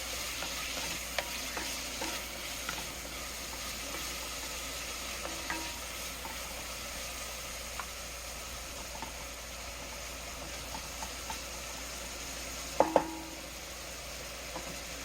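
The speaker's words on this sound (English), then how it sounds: "Stir it around a little bit, and then let it sit and cook." Lamb stew seasoned with pepper cooks in a pot while being stirred, giving a quiet, steady sizzle and bubbling, light spoon scrapes scattered throughout and a sharp double clink near the end.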